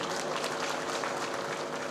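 A crowd at a political rally in Kurhani claps continuously, a dense, even wash of applause heard from some distance at moderate volume.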